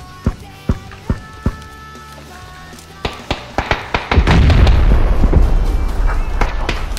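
Gunfire in the PUBG battle royale game: a run of sharp, evenly spaced single shots, then a denser burst of louder booming fire and rumble, with no talk over it.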